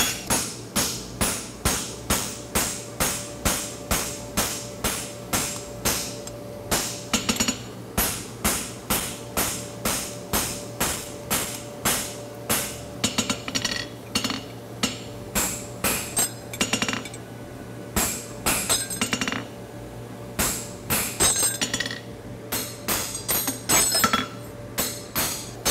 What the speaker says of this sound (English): My blows overlap, so we get a nice shiny finish